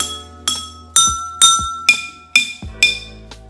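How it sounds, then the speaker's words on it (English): Water-filled drinking glasses played as a musical instrument, struck seven times in a steady rhythm, each ringing note bright and close with a lingering decay, no talking. "I love the different sounds that you can make with water and glass"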